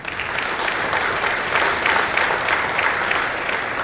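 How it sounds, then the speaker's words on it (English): A seminar audience of Rotary club president-elects applauds themselves, a thick, continuous roar of clapping from a large room, loud and steady with slight swells. "I really want for you to give yourselves a round of applause for getting here."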